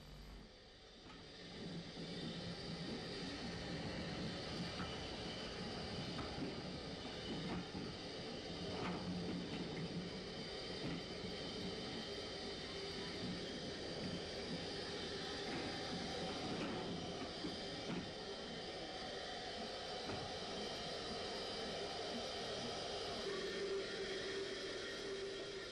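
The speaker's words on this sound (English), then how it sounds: "Later in the day, the station pilot, number 14, backs down onto some coaching stock." Station pilot locomotive number 14 backing onto coaching stock on an Irish railway in the 1960s, a steady rumbling drone with low chugging texture and clanks, fairly distant and continuous throughout.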